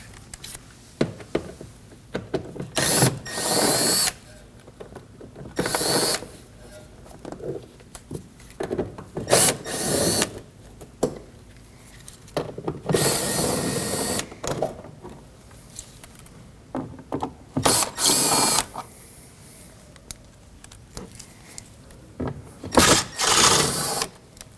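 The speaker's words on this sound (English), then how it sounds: "We have a bunch of T15 Torx bits that we're going to remove." Torx T15 screws being backed out of the driver's side front fender liner on a Chevrolet Colorado with the 3.6L V6, heard as repeated short bursts of a cordless driver whirring, separated by brief pauses and quiet handling noise.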